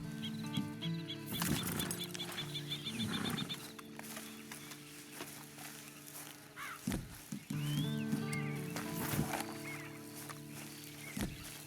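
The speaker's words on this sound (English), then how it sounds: "And you better get on this horse." Horse and farm-animal sounds in Red Dead Online mix with clucking fowl and scattered game noises, moderately loud and busy, with no talk.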